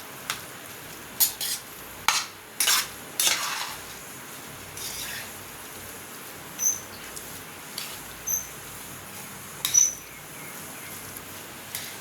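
Hot tamarind gravy being mixed into cooked rice for temple-style puliyogare, heard as soft, scattered scrapes and clinks of a utensil against the vessel, spaced irregularly over a quiet background.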